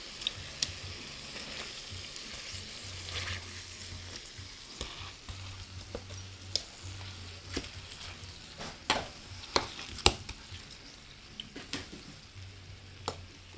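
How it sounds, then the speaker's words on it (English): Chicken pieces fry in a pan with water added, producing a steady sizzle broken by sharp clicks and utensil clatter as the pieces are turned, with a low hum underneath. "going to add water to the top of the pan, and then now the chicken needs to be turned."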